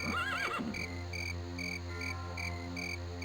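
A horse in the video game Daggerfall Unity gives a short, clear whinny with a rising and falling pitch, then a steady tonal game drone continues under it.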